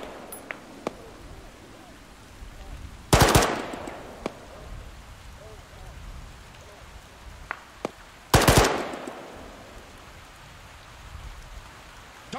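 In Arma, a machine gun fires two loud, close bursts several seconds apart over a hissing rain-like ambience with a few scattered single cracks.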